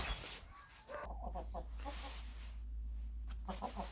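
Several hens huddled together in the cold morning cluck in short, repeated bursts, close by, with a low steady hum underneath and no talking.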